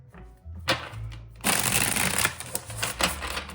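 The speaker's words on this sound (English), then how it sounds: "And they shuffle really, really well" Tarot cards being shuffled in several quick riffling bursts, close and crisp, with brief pauses between them and no talking.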